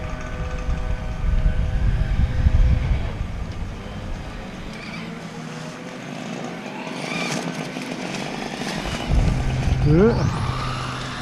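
A Traxxas Stampede 2WD VXL RC truck fitted with high-speed gearing and a slightly loose clutch whines and roars as it launches, its motor pitch climbing fast, then fading before a sharp rising whine near the end.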